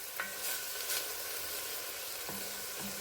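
Onions frying in a pan for red chili while being stirred, a steady close sizzle broken by a few scraping strokes of the spoon.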